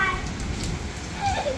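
Heavy rain during a storm in Riyadh, a dense steady hiss of rainfall on surfaces, loud and continuous throughout with no clear speech.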